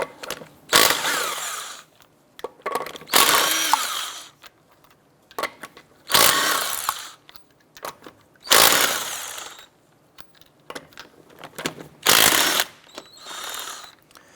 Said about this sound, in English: Using a 19mm socket, we're going to go ahead and remove our lug nuts.